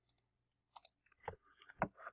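Keys tap on a computer keyboard in short, sparse clusters, close and quiet, with gaps of near silence between the bursts of clicks.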